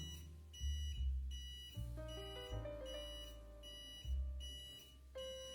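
A budget bicycle turn indicator's left signal sounds a repeating electronic beep, a series of quiet tonal pulses at a steady rhythm with no voices.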